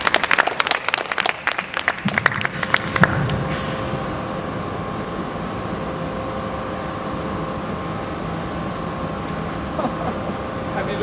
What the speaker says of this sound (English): Alright, let's give a round of applause.